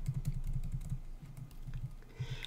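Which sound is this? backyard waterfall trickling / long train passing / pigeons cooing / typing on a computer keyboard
typing on a computer keyboard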